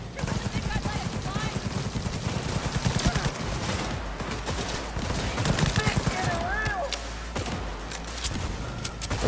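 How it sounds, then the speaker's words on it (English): Smart rifle gunfire in Cyberpunk rattles in quick repeated bursts amid chaotic combat, with shouting voices heard over the shooting. "The smart rifles are awesome."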